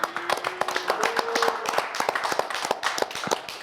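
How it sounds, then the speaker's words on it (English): Studio audience or hosts clap for a guest host on a podcast, a quick burst of sharp, uneven hand claps carrying on for several seconds, close and fairly loud, with a faint sustained tone underneath at first. "Clap it up."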